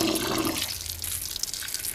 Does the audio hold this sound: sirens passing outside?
no